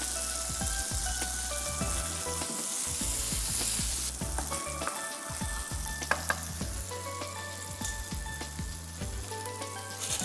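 Food fries crisply in a hot pan in a cooking-show kitchen, a continuous bubbling sizzle with crackles and occasional stirring clatter, close and clear without speech.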